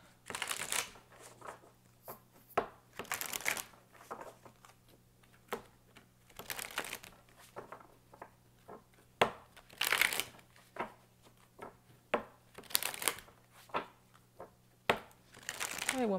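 Indigo Angel Oracle cards being shuffled by hand in repeated riffling bursts, each a crisp papery flutter separated by short pauses, close and fairly quiet over a low steady hum.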